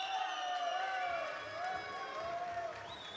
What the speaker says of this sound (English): The loud cheer from the fans continue here at the Liaka Gymnasium